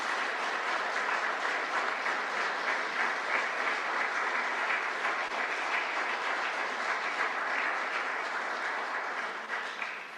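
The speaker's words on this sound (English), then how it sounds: "Let's give a great round of applause for these fantastic women." A steady, dense round of audience applause fills a hall during a talk honouring women Nobel laureates, sustained evenly for about ten seconds before tapering slightly at the end.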